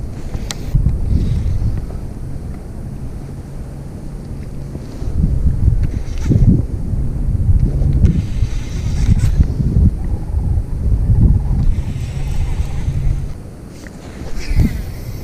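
Gusty wind blows across an aluminum jon boat on the water during a bass fishing tournament, buffeting the microphone in uneven rushes and low rumbles that swell and fade over about fifteen seconds, with no talking.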